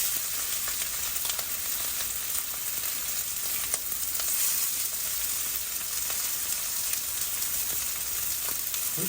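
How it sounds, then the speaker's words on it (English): Sausage sizzles in a preheated 9-inch square cast iron skillet, a steady crackling hiss with small pops, close and alone. "Get some sausage going in the pan."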